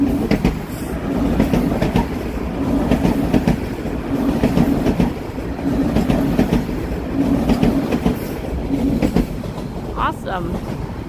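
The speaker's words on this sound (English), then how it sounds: "Oh, there goes the train." A train rolls past near a city walk between Scarborough and downtown Toronto, a steady rumble with rhythmic wheel clatter holding loud and continuous throughout, with a person talking now and then over it.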